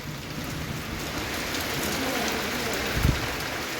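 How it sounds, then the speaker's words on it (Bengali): Heavy rain falls in a steady, loud, close hiss with dense patter on surfaces, broken by a brief thump near the end. "আর চলে এলো বৃষ্টি। বৃষ্টি মানে সেই রকম, মানে এত পরিমাণ বৃষ্টি।"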